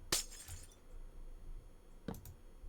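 Two glass-breaking sound effects from the Minecraft video game, each a sharp bright crash with a brief tinkling tail, the first early and the second about two seconds later, heard alone over a faint quiet background.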